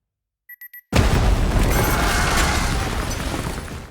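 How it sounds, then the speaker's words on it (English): Explosions set off on the Bank of Spain's exterior in Money Heist, preceded by three quick electronic beeps, then a massive booming blast that rolls on as a sustained loud rumble with debris-like crackle. "He triggers explosions on the building's exterior"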